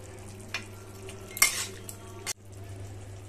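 Meat curry stirred in a cooking pot, a few scraping clinks of a spoon against metal over a faint low simmer, one sharp scrape near the middle and a knock, no talking.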